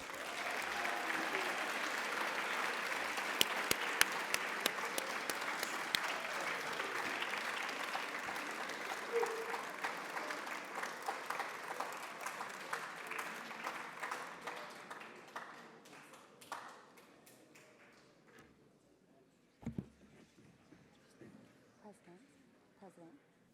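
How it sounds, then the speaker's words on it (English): Congratulatory applause for the winner of the W. Wallace Fry, Jr. speech competition, a broad sustained clapping from a room of people that gradually thins and dies away over about twenty seconds, with a voice coming in near the end. "Please give a big round of congratulatory applause to Eric Schellebarger."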